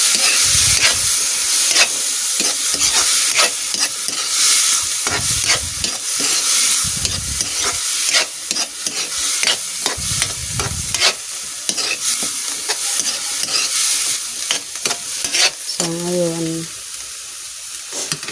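Bitter gourd (ampalaya) stir-frying in a pan, with constant loud sizzling and hiss broken by repeated scraping strokes of a spatula, close up and uninterrupted.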